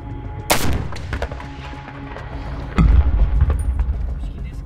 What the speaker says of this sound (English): So there's a lot of incoming fire.